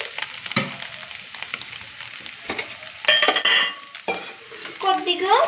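Homemade noodles with curry leaves are stirred in a pan, with irregular scraping strokes and metal clinks over a low sizzle, close and moderately loud.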